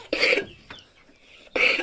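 A hen coughs in short hoarse bursts, two strong ones about a second and a half apart with a faint rasp between them, close by and otherwise quiet.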